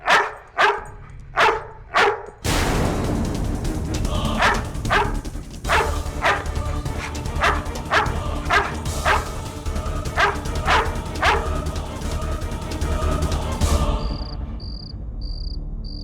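A dog barks in a quick burst of sharp yaps, then a steady dense hum of crickets or insects fills the background, with scattered fainter barks and high chirps near the end.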